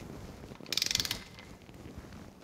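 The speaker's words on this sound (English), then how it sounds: "we're going to go ahead and torque them all down." Ratchet wrench torquing bolts on a Datsun 260Z engine during assembly: a short burst of rapid clicking ratchet pawl, close and crisp, against a quiet background.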